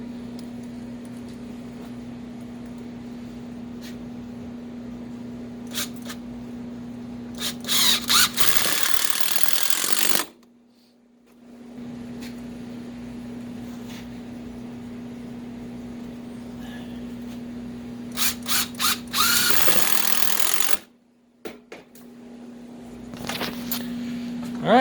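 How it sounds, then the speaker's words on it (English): A steady electrical hum runs throughout, broken twice by a close power drill whining as it drives a 3-inch Robertson wood screw, each run ending abruptly. "Got my drill and gonna use a 3-inch wood screw"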